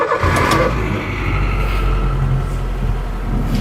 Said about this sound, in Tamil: எந்த அளவுக்கு ஒரு நீட்டா ஒரு சைலண்டா ஒரு இன்ஜின் ஸ்டார்ட் ஆகுது